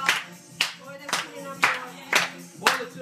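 Rhythmic clapping from a group at a birthday party, six sharp beats about half a second apart, fairly close, with faint voices murmuring underneath.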